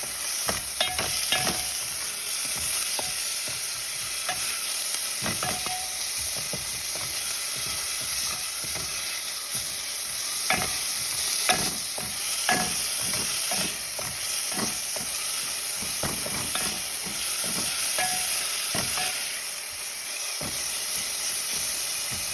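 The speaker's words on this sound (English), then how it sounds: "We are starting off by heating the oil. Then we're going to add the onions." Onions frying in heated oil give a steady, close sizzle and hiss for the whole stretch, broken by regular scraping and clacking from stirring. No one speaks.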